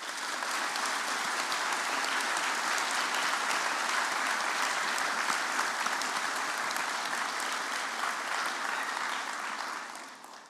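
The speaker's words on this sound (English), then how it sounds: "let's take a moment to recognise their support with a well-deserved round of applause" A dense, steady wave of applause from a large audience at a Queen's University Belfast summer graduation ceremony, holding evenly for about ten seconds before tapering off at the end.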